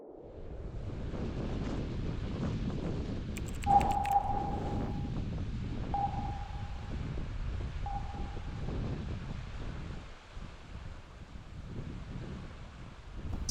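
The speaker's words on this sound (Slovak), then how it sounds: "Začína sa opäť prejavovať silný vietor." Strong wind in Iceland, a continuous blustery roar buffeting the microphone, with a few faint tonal whistles partway through, steady and loud throughout with no voices.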